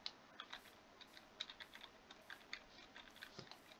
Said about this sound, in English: You could probably hear my keyboard